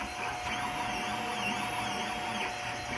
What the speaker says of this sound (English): Now, I've got it printing right now